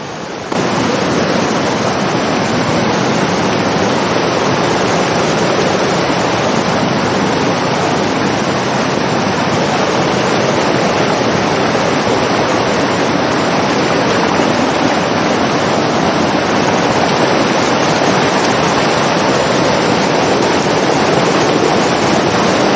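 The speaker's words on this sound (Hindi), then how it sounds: "यहाँ पे झरने को पार किया है अभी, इसके ऊपर से जा रहा है।" A waterfall on the Har Ki Doon trek in the Himalayas rushes in a loud, unbroken roar, close by and steady for the whole stretch with no speech.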